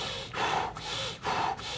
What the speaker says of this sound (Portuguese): Sabe qual é a respiração que você tem que fazer antes? Apical.